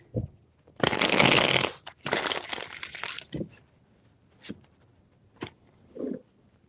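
A tarot deck is shuffled: two long, crisp bursts of riffling cards, then several sharp isolated taps and flicks as the cards are handled, close and clear.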